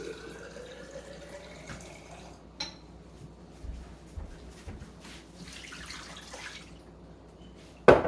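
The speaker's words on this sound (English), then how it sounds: "I add a little water, not tap water. I add a little Berkey water." Berkey filtered water is poured into a pot holding Sam's Club chicken tenders: a faint, quiet trickle with soft clinks of kitchenware, ending in a sharp, louder clatter.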